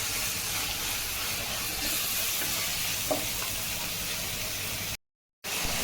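Masala sautéing in a pan for crab thokku, a steady, close sizzling and frying hiss that continues throughout, broken by a brief drop-out near the end.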